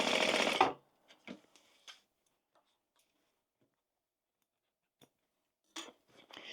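A sewing machine stitches a tote bag seam in a short, close, whirring burst, followed by faint scattered clicks and handling taps, then a few more light clatters near the end.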